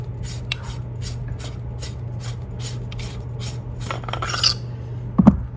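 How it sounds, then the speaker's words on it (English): The handle of a Scraptec lightsaber is unscrewed, giving a series of quiet, close scraping thread rasps in a regular rhythm, then a small metallic clink at the end. "unscrew the handle"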